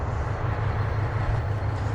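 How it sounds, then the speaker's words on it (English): A small one-car train idles at a quiet rural station in Japan, its steady low engine rumble and hum filling the moment at close range with no voices. "Just one small one-car train for this small station."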